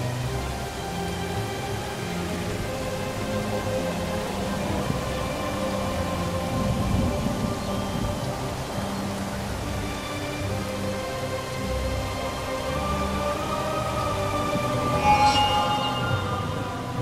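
Rain falls in a video game: a steady hiss of rainfall over a low ambient game soundscape with sustained tones, a faint rumble throughout and a brief brighter accent near the end, with no speech.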